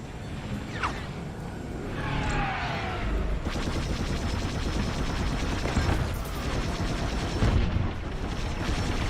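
Starfighter weapons firing in the Star Wars: Squadrons video game, rapid laser bursts over a constant roaring engine and battle din, loud and continuous with no talk.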